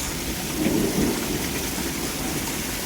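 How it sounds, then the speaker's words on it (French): Steady heavy rain pours down in a loud, dense wash, with a low thunder rumble swelling briefly early on during the storm, and no voices. "faudrait pas que ça pleuve trop longtemps comme ça"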